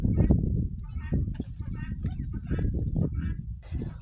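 Chickens gather in a village yard, with bursts of clucking and fowl calls mixed into steady outdoor noise, loud and close, while a person talks over them.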